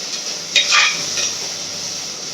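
Onion masala sautéing in oil for a fish curry, a soft steady sizzle with a brief stir or scrape of a utensil in the pan, close and fairly quiet.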